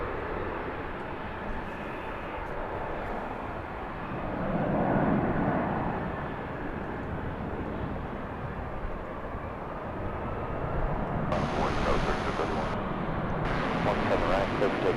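An American Airlines airliner takes off from a runway at DFW International Airport, a broad steady jet roar that swells and holds throughout, with radio voices heard over it.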